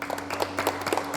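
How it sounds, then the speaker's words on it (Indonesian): Audience applause at a mechanical engineering lathe machining presentation: a dense, steady patter of many hands clapping, fairly loud and close, lasting about a second without pause. "Oke, kasih tepuk tangan."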